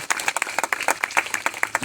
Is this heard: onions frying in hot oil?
no